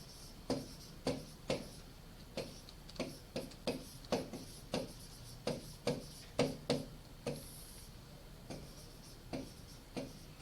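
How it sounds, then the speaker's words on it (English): A pen or marker writes out a chemistry equation in a quiet room, making a series of short, sharp taps and strokes at an uneven rhythm with no talk. "Let me write it out here for you."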